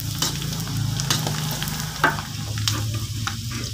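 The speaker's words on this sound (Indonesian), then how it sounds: "Ini pemirsa, kita goreng." Sliced garlic and kaffir lime leaves sizzle steadily in hot frying oil, with repeated scraping stirs and clinks of a utensil against the pan close by.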